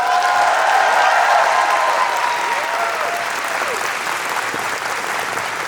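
A big commencement crowd at Webster University Tashkent applauds the faculty, a loud, continuous roar of clapping with faint cheers mixed in, easing slightly in volume toward the end.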